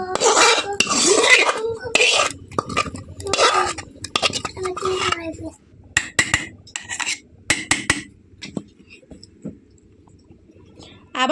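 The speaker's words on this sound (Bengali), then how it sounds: "এখন যে আমি দুধের মিশ্রণটা তৈরি করে রেখেছিলাম সেটা এখানে দিয়ে দেবো" Milk mixture poured into a mixer jar holding ground coconut paste, with clinks and knocks of the jar and utensils in short bursts, some loud, spread across the clip.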